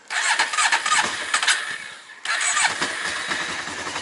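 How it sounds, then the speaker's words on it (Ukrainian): A Honda CB 500 motorcycle engine cranks and catches, its rough revving dips briefly, then it starts again and settles toward a steady run, heard close up with no voices. "Тепер що заводимо?"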